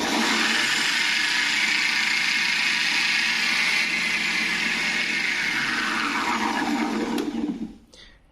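An NGF110 milling machine spins a homemade cutter at low speed while facing a surface, giving a steady, loud whirring grind that holds evenly for several seconds before winding down and stopping near the end.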